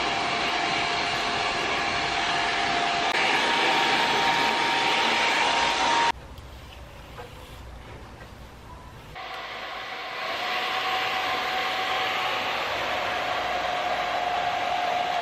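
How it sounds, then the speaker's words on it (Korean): A JMW Touch On hair dryer blows with a steady, close airy roar and a faint whine, dropping to a softer, lower rush for a few seconds midway before returning to full strength. "얘는 JMW에서 나온 드라이기 터치온이라는 제품이고요"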